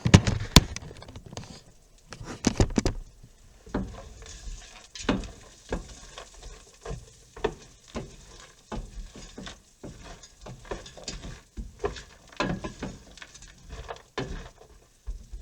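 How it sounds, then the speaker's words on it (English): Butter melting among noodles in a pan while being stirred, giving a faint ongoing sizzle broken by scattered spoon scrapes and taps, recorded close up with no one speaking. "the butter is starting to melt with the noodles, and I'm gonna stir it up"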